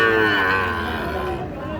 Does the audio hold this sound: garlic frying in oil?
no